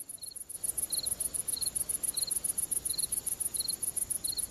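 A cricket chirps in regular short bursts, about one every two-thirds of a second, over a faint hissy night background, with no one talking.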